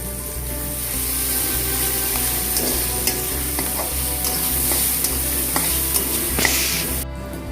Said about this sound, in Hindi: तो इस टाइम पे मैं डाल दूंगा जो मेरे कटे हुए टमाटर थे। और इसको मैं हिला लूंगा।